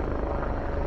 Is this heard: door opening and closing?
no